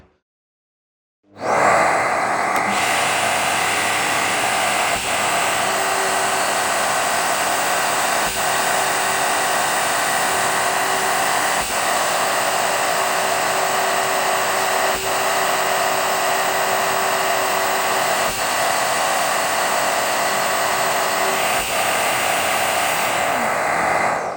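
A Shaper Origin router with Benchpilot spins up its spindle and cuts wood about 5 mm deep, a loud, steady high whine that starts abruptly and holds for over twenty seconds, with faint periodic ticks and no voices.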